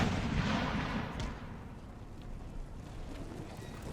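Distant cannon fire rumbles across a battlefield in Empire Total War, with booming artillery, scattered gunshots and thuds layered into a continuous low roar that is loudest at the start and then settles, with no voices.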